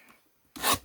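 Scissors snip bumps off the edges of cardboard box flaps in a quick, close rasping cut lasting a fraction of a second after near silence.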